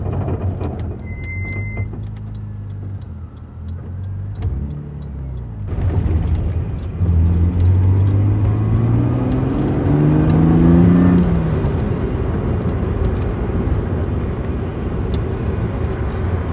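A turbocharged BMW E30 with an M52 engine drives on a winter road, its engine whirring and rising in pitch as it accelerates, with faint extra rattles over the cabin drone; no talking.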